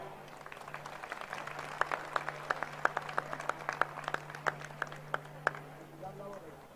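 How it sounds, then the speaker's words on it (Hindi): An audience claps at a community trust's stage event, with a sustained ripple of individual claps running for several seconds over a low steady hum before fading near the end. "जोरदार तालियां"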